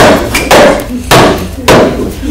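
Loud, close hammer blows land at a steady pace, three heavy strikes about half a second apart, each followed by a ringing decay amid busy background noise.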